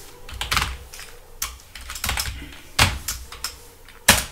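Keystrokes on a computer keyboard while entering a Python print function, with bursts of quick taps and a few sharper, louder key strikes, close and alone with no talking.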